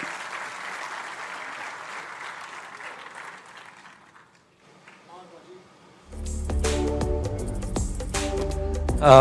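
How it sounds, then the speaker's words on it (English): An audience applauds at Punjab's first tourism summit, steady clapping for about four seconds that fades to near silence, then loud stage music with a heavy beat kicks in and continues to the end. "Please, a huge round of applause"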